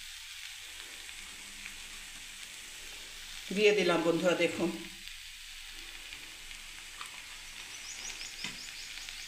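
Grated paneer goes into vegetables cooking in a wok, over a soft, steady sizzle; a voice speaks briefly partway through, then the low frying hiss carries on alone.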